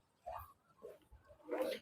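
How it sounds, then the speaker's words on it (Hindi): A dog near a kitchen farm plot in Shenyang, China barks a few short, faint times from a distance, in quiet surroundings. "ये जब भी मैं यहाँ से गुजरता हूँ इसने लाजमी भौंकना होता है"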